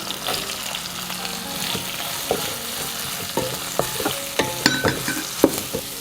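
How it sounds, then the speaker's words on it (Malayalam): Sliced onion and green chilies sauté in a hot pan, a steady close sizzle broken by repeated scraping and clinking stirs that grow sharper and more frequent toward the end, with no voices. "അതും കൂടെ ചേർത്ത് കൊടുത്ത് നന്നായിട്ട് നമുക്കൊന്ന് വഴറ്റിയെടുക്കാം"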